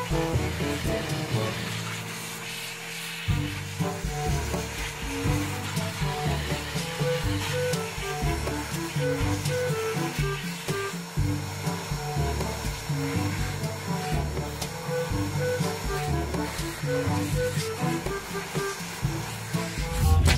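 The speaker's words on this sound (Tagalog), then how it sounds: "So importante rin po yung blower sa pagka-car wash." An air blower drives a steady, loud rushing stream of air to dry a Pajero Montero Sport during a car wash, blowing water from the seams with shifting intensity.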